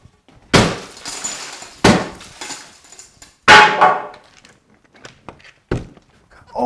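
Glass shatters against hard surfaces in several sharp, loud crashes with tinkling debris between impacts, close by and without talk.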